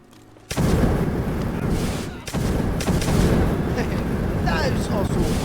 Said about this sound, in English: It's a nice piece of artillery.